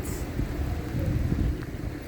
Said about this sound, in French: Il pleut. Bon, il fait chaud, mais il pleut.